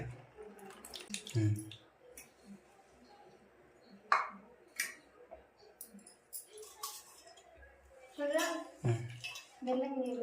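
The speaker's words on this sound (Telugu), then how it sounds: "చింతపండు నీళ్ళు పోసుకోవాలి" Tamarind water pours and splashes in short bursts, with clinks of a pot or utensil and quiet voices now and then.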